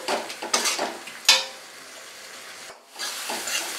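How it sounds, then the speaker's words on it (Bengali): Spice masala sautéing in a pan for chicken khichuri, with a wet sizzle and a few scraping stirs in short bursts, a brief sharp clink, then a quiet pause before the sizzle returns, close and without talk. "দিয়ে মশলাটাকে ভালো করে কষিয়ে নেব।"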